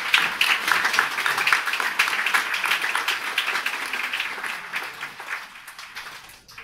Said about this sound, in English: Please join me in acknowledging and appreciating our teachers' work with a round of applause.